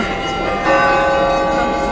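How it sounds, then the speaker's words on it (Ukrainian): Church bells ring in Kamianets, their sustained metallic tones hanging over a steady noisy background, loud and continuous, with a stronger stroke partway through. "московити дзвонять дзвони"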